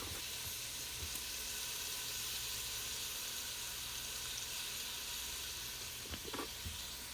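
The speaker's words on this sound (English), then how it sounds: "I'm gonna put 2 tablespoons in here so that I can just sear the meat" Meat sears in melted plant-based butter in a pan, giving a steady, quiet hiss and sizzle throughout with a couple of faint clinks near the end.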